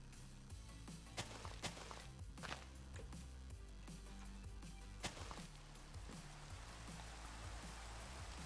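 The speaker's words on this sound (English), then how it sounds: "Oh, rain brings snow." Rain falling in the Minecraft video game, a steady soft patter at low level over a droning music bed, with a few sharp clicks and game sound effects scattered through.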